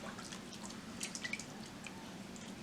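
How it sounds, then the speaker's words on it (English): Water drips and trickles off bocconcini curd as it is lifted from hot water and worked above the pot, a scatter of small close splashes with no talk. "I'm pulling the curd out Right. and working it out above the water"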